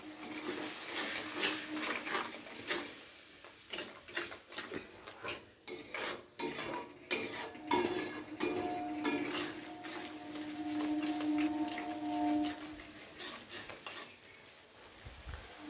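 Spice masala for a Bengali katla fish jhal being stirred and scraped in a pan with a splash of water, a steady soft sizzle under repeated scraping strokes of a spatula, close and moderately loud with no talking.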